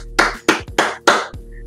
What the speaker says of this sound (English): Let's give her a big round of applause, everybody